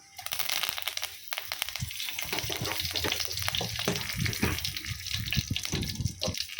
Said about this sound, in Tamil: இப்போ கருவேப்பிலை பொரிஞ்சிருச்சு.